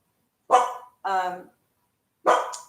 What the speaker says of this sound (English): I'm gonna have to put my dogs in the other room if they don't stop.